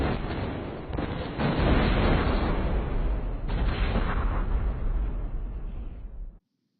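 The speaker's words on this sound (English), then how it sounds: "The explosion caused massive damage to the surrounding areas." Explosion of an ammonium nitrate cargo ship at Texas City in 1947, a sustained roaring, rumbling blast that is loud and unbroken for about six seconds, then cuts off abruptly.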